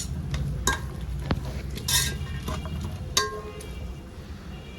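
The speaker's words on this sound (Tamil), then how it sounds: "பச்சை பட்டாணி இதை போட்டு ஒரு கொஞ்ச நேரத்துக்கு வதக்கிப்போம்" Vegetables and green peas being sautéed for a vegetable biryani, with steady stirring scrapes, faint sizzling and a few sharp metallic clinks of a utensil against the pan, close and continuous with no talk.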